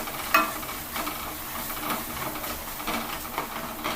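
Spice powder roasts in a pan for a hotel-style rasam, a soft continuous sizzle with light scraping stirs close by and no talking.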